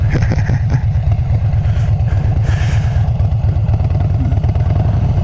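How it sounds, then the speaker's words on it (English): A Harley-Davidson Fat Bob motorcycle with ape hangers rumbles steadily at close range, its loud, low, pulsing engine thrum continuous and even throughout, with wind noise and no talking. "I ride a Harley. It's a Fat Bob."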